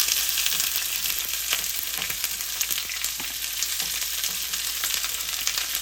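Onions and peppers fry in saved beef fat for refried beans, giving a dense, even hiss of sizzling that stays loud and unbroken throughout, with scattered faint pops and no speech.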